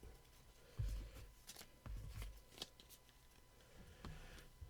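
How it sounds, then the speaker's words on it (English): VIP game cards from the board game Ready Set Bet High Roller Edition are shuffled by hand: soft riffling and tapping bursts, faint and close, with no talk. "These will be all shuffled up."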